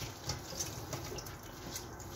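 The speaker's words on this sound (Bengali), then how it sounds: "পানিটা একদম ভালো করে ঝরিয়ে নিচ্ছি" Water trickles and drips steadily from freshly squeezed chhana, a soft, continuous splashing with small irregular pulses and no voices.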